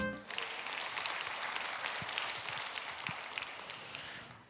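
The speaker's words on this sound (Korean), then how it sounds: "박수로 맞아주세요." A church congregation claps to welcome pastor Cho Hyun-chul before a sermon, a soft, steady patter of applause heard from a distance and fading at the close.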